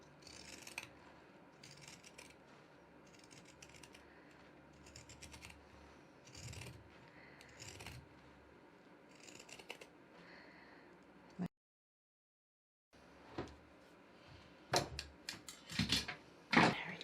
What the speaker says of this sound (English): Now around this curved bit, I like to grab my pinking shears. I just do this whole end.